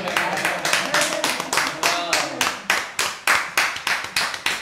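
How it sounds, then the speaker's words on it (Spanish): An audience claps for a live painting performer at an arts event, about fifteen sharp, evenly spaced claps in a strong rhythmic beat, loud and close, with brief speech mixed in early on. "Vamos a aplaudirla, ¿no?"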